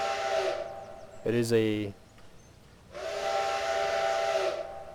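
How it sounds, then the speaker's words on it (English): A steam locomotive whistle in Trainz 2022 sounds in long, loud, steady blasts with a pause between them, alongside a brief spoken phrase and a steady steam hiss. "Whistle sound is pretty cool."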